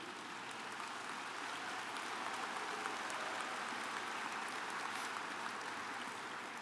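A large audience at the Berkshire Hathaway annual shareholders' meeting applauds the company's directors, a steady, dense wash of clapping from many hands that fills the hall evenly throughout.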